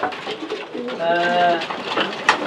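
A racing pigeon coos in a low, warbling run of notes, close by, with some background chatter and rustling around it, in a breeder's loft.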